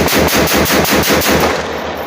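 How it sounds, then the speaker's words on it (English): A Phoenix Arms HP22A pistol is emptied as fast as possible with CCI Mini-Mag rounds: a loud, close string of about a dozen rapid, evenly spaced shots, then ringing echo as firing stops. "go ahead and mag dump this CCI mini mag"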